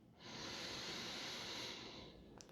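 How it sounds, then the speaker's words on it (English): A single long, deep inhale through the nose during a calm guided meditation, a steady airy rush lasting about two seconds, close and clear with no talking over it. "breathing in deep through the nose"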